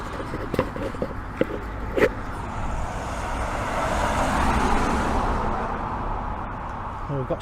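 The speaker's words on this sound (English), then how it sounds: "Sorry about the road noise" Road traffic passes nearby as a steady roar that swells toward the middle and then fades, with a few sharp knocks and rustles near the microphone early on.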